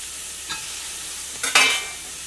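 Tomato masala fries in a pan as curry leaves are stirred in: a soft scrape, then a louder burst of sizzling and stirring near the end, with a steady low frying hiss throughout.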